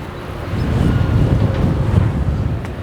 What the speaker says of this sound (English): Like, it seems like we can't get a non-windy day.